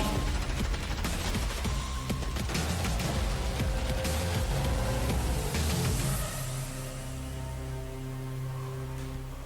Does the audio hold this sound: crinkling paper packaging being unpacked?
no